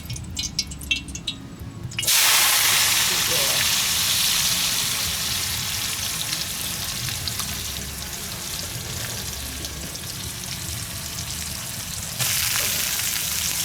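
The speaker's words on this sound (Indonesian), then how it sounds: "Kita goreng dulu teman-teman." Kulit kembili skins hit hot oil and burst into a loud, continuous sizzle after a quieter, faintly clattering start, the crackling frying hiss holding steady and close, with no one talking.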